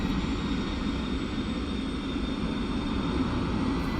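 The turbine engine of a Mi-24P Hind helicopter in the DCS combat flight game spools up with a steady, even whine and rumble, alone, with no voices.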